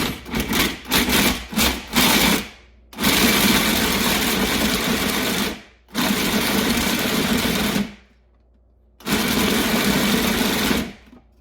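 Blender pulsing chocolate chips for zucchini brownies in several bursts: short rapid pulses, then longer whirring runs separated by brief silences, loud and close.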